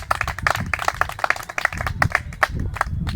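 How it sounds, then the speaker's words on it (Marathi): A group claps together to welcome new members at a morning green juice club gathering, a dense, steady run of hand claps filling the moment with no one talking over it. "जोरदार टाळ्या वाजून करू आपण."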